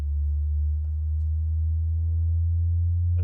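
A steady low sine-wave tone from a signal generator drives a tube into resonance, a loud continuous hum with faint overtones and slight shifts in level as the tone is held near the tube's resonant pitch.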